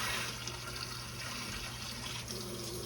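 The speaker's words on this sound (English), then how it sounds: "now we're gonna fill this up with water" Water pours steadily into a stew pot for beef stew, a continuous hissing, splashing stream with a low hum beneath, moderately close and unbroken, no voices.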